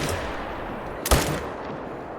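A single hunting rifle shot booms sharply in theHunter: Call of the Wild, set in mountainous Silver Ridge Peaks terrain, cutting through steady outdoor ambience with a short fading tail.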